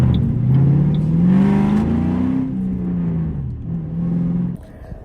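A tuned 2007 Ford Mustang GT with a Bama SCT performance tune on 93 octane makes a quick pull, its engine note rising and falling close by before cutting off.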